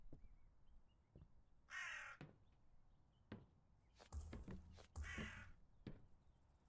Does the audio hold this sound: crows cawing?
yes